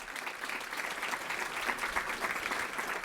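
Steady, dense applause from an audience at a conference, continuous and fairly loud throughout with no voices standing out.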